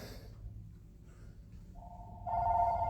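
A telephone rings in short electronic bursts that swell louder toward the end, heard alone against quiet background hiss in a shop setting.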